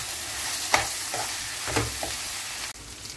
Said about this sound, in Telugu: ఎంత కావాలనుకుంటే అంత సరిపడా కారం యాడ్ చేసుకుని ఒక 1 minute ఫ్రై చేసుకోవాలి